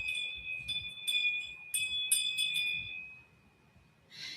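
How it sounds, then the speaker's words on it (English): A bell rung during a live tarot reading to cleanse the energy, giving a few bright metallic strikes with a long sustained ringing tone that fades away, followed by a brief soft rustle at the end. "I'm going to ring the bell."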